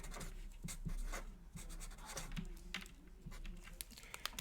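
A pen writes in green ink on paper with soft, close scratching strokes and small taps, quiet and intermittent.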